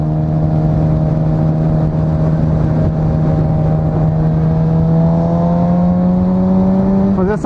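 A Honda Hornet motorcycle with a straight-through exhaust and no baffle idles loud and close, holding a rough, steady drone before revving up sharply at the very end.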